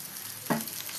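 Prawns frying in a pan for a crispy prawn varuval, a steady soft sizzle with one brief louder burst in the middle.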